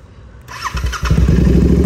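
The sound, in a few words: Royal Enfield Interceptor 650 with altered exhaust starting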